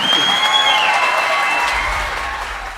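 Audience applause with some cheering at a live tennis show in Cincinnati, a steady loud wash of clapping from a crowd that continues throughout and tapers slightly toward the end.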